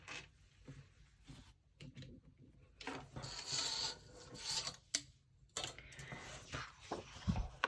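Scissors cut through paper for a handmade book, with rasping, scratchy snips and rustling in irregular bursts, close and fairly quiet.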